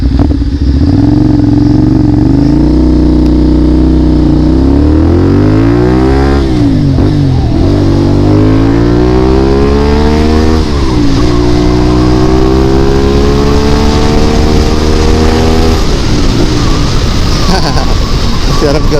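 A second-hand CFMOTO 450SR big bike accelerates hard along an expressway, its engine note climbing through repeated gear shifts with a steady rushing wind roar, loud and close throughout.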